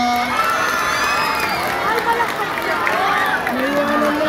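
A crowd at a Miss Gay pageant's national costume segment cheers and shouts loudly, with whoops and high voices rising over one another in a continuous roar.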